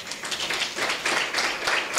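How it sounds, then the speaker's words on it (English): An audience claps at an International Day of the Girl Child event, a steady, moderately loud patter of many hands that continues without interruption for about two seconds. "Ladies and gentlemen, please a round of applause to Maria Stops."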